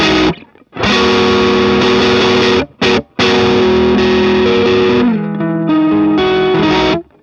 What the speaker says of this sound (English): So this is the drive sound.